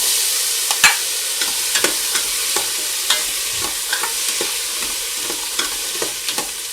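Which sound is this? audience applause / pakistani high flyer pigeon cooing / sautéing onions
sautéing onions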